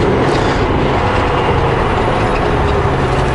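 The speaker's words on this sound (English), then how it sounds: "That's a garbage truck" A garbage truck moves along snow-covered Highway 3 near Paulson. A steady, dense roar of engine and road noise holds at a constant level throughout, with no clear breaks or voices.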